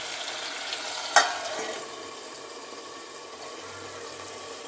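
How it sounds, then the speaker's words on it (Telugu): Chicken pieces frying in oil in a home kitchen for chicken curry, a low steady sizzle with one sharp clatter near the start and a few faint clicks, no talking. "చికెన్ అయితే వేసినా అండి నూనెలో మంచిగా ఉడకాలి"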